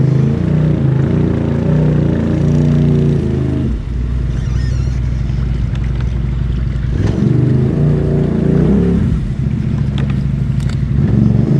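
Off-road vehicle with a torque locker driving in two-wheel drive, engine loud and steady throughout with its note dipping and surging as the tires dig in, close and continuous with no talking.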